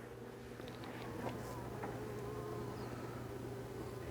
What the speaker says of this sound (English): Lots of bees in here at least.